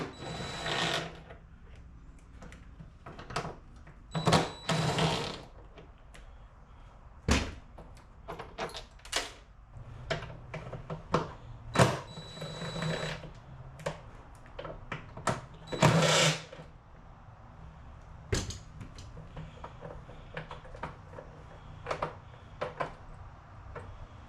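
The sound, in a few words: wrench removing bolts from a boat cowling mount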